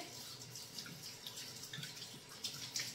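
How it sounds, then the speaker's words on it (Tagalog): Water runs steadily from a kitchen tap while hands are washed beneath it, a soft continuous hiss with small splashing fluctuations, close and quiet, with no voices. "teka muna, ako ay maghugas ng kamay"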